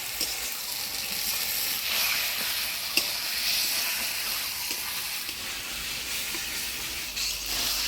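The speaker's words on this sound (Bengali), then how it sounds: "আলু দিয়ে মশলা সাথে ভালো করে কষে নিলাম" Fried potatoes hiss and sizzle steadily as they sauté in a cooked spice paste, with a dense, continuous frying sound and a few soft stirring knocks, close and fairly loud, without any talking.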